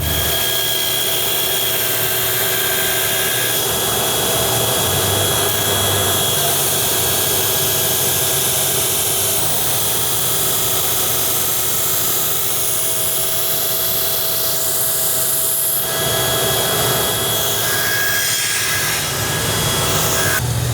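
A purpose-built sharpening machine grinds a lawn mower blade at Messick's, producing a loud, steady, continuous whirring grind that runs unbroken for about twenty seconds with slight shifts in tone.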